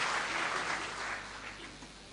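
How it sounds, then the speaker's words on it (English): Audience applause at a convocation ceremony for cadets and postgraduate students, a steady wash of many hands clapping that holds evenly and then eases slightly toward the end, with no talk over it. "Shall we applaud all our visiting university VCs and registrars?"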